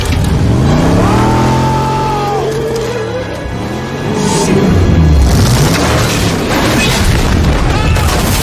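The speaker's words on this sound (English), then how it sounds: "Brian drives the Camaro off a ramp and lands on top of Veron's yacht." A Camaro launches off a ramp and slams down on top of a yacht in a film chase scene, with a loud engine roar and whooshing dropping in pitch, a heavy impact, then rumbling crash noise and a dense action score.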